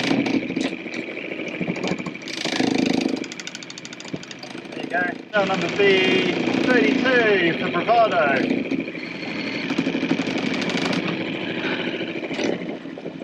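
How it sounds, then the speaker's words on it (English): The outboard motor of a 21ft yacht ticks over at idle, a low steady drone running throughout beneath close talk, with brief louder bursts of wind and water noise. "We are running the outboard, but it's only on tick over"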